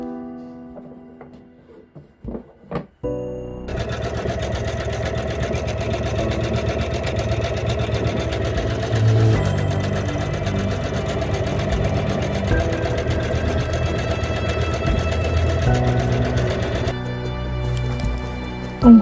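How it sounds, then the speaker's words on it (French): Embroidery machine stitching a belt bag panel in a sewing workshop, starting up after a few faint handling knocks and then running as a steady, close, continuous mechanical whir and rapid needle clatter for about thirteen seconds before stopping. "j'allume la brodeuse et elle reprend son travail"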